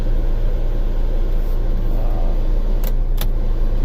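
Blower motor of a 2006 Dodge Sprinter 2500 2.7L turbo running on high with fresh air and panel vents open, a steady loud whooshing hum with two brief clicks near the end.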